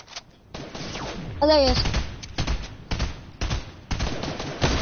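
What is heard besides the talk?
gunfire in a video game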